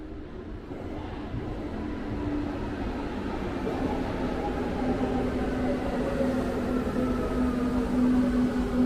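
A loud rumbling U-Bahn subway train noise builds steadily in a Berlin station, with a low drone and a rising whine as it moves through, no speech.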